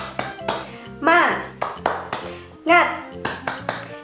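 During an online Sunday school session, a rhythmic clapping routine called tepuk semangat plays out in sharp, close claps in patterned groups, punctuated by a voice calling out between the sets of claps.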